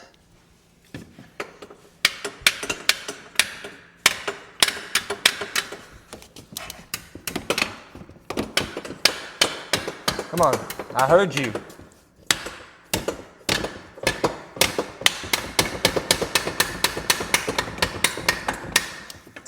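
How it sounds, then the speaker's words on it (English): Repeated sharp smacks on a stuck ATV starter, dozens of hard metallic knocks in uneven bursts, close and loud, with someone briefly speaking between blows. "It's hard to get in there, give the smack to the starter."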